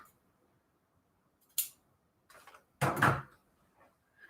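Several scissors handled on a crafting table: a few isolated clicks and snips, then a louder rustle and clack, separated by near silence.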